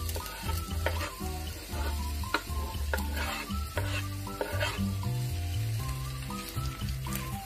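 Onion and garlic fry in hot olive oil in a pan, giving a steady close sizzle throughout with stirring and clinks, and low background tones under it.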